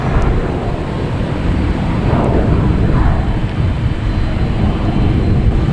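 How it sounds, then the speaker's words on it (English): A Delta jet airliner in a 100 Years livery takes off at Boston Logan, a loud, continuous low rumble that swells slightly and stays heavy throughout. "Next taken off is the Delta"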